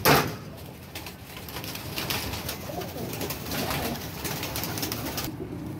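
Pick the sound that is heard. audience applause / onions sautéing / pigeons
pigeons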